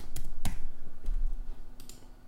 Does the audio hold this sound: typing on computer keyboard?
yes